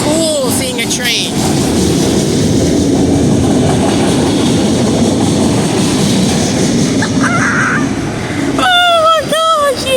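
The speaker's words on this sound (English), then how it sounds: "So y'all need a fact while this train comes by. These auto racks has cars in them." A CSX freight train hauling auto rack cars rumbles by loudly and steadily at close range, while a person speaks over it at the beginning and end.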